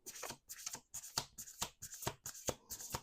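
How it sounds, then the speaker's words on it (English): Tarot cards being shuffled in quick riffling bursts, about seven in a row with short pauses between, close and crisp. "Last shuffle."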